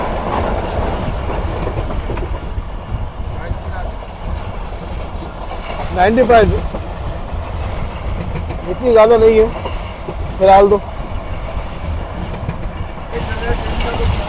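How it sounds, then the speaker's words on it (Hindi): The Rehman Baba Express passenger train rolls along the tracks toward Dhabeji railway station on a winter journey, with a steady rumble and periodic clickety-clack bursts of wheels over rail joints, while people talk over it. "तो कुछ इस तरह की स्थिति में ट्रेन हमारी आगे बढ़ रही है धाबेजी रेलवे स्टेशन की तरफ।"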